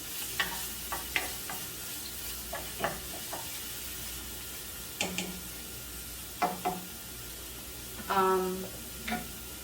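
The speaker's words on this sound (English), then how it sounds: "I'm just gonna lower the heat a little bit so we don't burn the onion." Onions fry in a pan on a home stove for a Bangladeshi dish, with a steady low sizzle broken by scattered scraping taps of a spoon stirring, close and moderately quiet, without talk.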